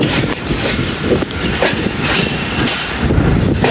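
Hazara Express passenger train with new coaches rolling along the rails, a steady loud rumble with rhythmic clickety-clack of wheels over joints, heard from on board without any talking.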